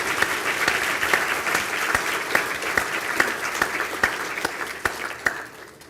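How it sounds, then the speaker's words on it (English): Sustained applause from the audience at a university conferring ceremony in Galway greets a graduate, a dense, even patter of many hands with a few sharper nearby claps standing out. "If we could give Kevin a very welcome round of applause."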